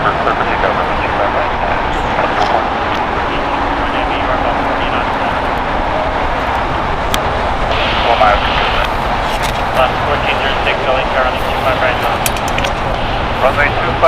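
A Boeing 787-8 Dreamliner pushes back from a gate at LAX, a steady broad engine roar sustained throughout at close range, with radio chatter and a voice talking over it.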